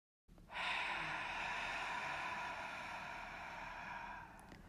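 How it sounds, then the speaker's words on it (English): A long, slow breath out empties the lungs in one steady, airy rush, close and alone, starting abruptly and holding even for about four seconds before easing. "you start by breathing out slowly, releasing all the air from your lungs"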